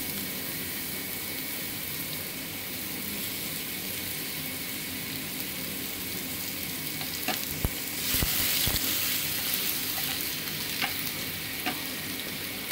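Thin-cut potato strips sizzle steadily in hot oil in a pan, a dense continuous frying hiss with a few sharp stirring clicks and scrapes near the middle and end.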